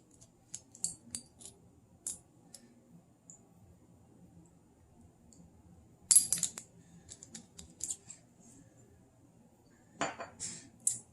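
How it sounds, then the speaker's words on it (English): A utensil stirs almond milk with baking powder in a dish, giving light scattered clinks and scrapes with quiet gaps between them, nearby, and a few sharper clatters toward the middle and end. "And let me stir this up since I put the baking powder in."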